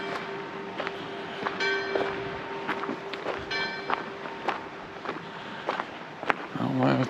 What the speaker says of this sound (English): Oh, the bell tolls 3 times, it must be 3 o'clock.